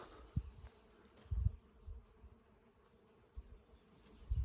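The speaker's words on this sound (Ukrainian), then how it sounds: "Ось бджоли метнуть." Bees buzz faintly in brief bursts as they fly past sunflowers in a field, with quiet outdoor background between passes.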